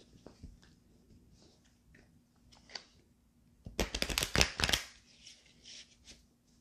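A burst of crisp tarot card shuffling, riffling quickly for about a second amid quiet handling noises and a faint low hum.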